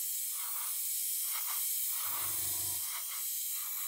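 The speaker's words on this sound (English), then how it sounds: "So what I'm going to do is just lightly spray this on here." Airbrush spraying heavily thinned paint gives a continuous close hiss of air, with a short lower rumble partway through.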